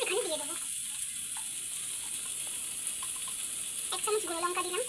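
Tomatoes and ground spices sizzling in a pan over a gas flame, a steady close hiss and crackle running under a voice that speaks at the start and end.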